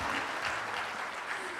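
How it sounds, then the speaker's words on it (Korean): A congregation at a Friday prayer worship concert in a church claps steadily, a dense, even wash of applause with faint voices underneath. "우리 삶에 함께 하시는 주님 앞에 영광과 찬양의 박수를 올려드립니다"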